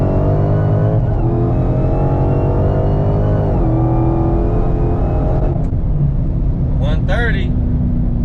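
A Dodge Hellcat Charger making about 860 wheel horsepower accelerates hard in third gear from around 65 mph, its loud engine roar climbing steadily in pitch with a brief dip at a shift-like break, continuous and close throughout.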